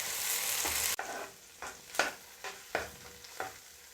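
Tomato masala for egg curry stirred in a pan, with a steady frying sizzle at first, then a quieter sizzle broken by four or five distinct scraping strokes of the spoon at an unhurried pace.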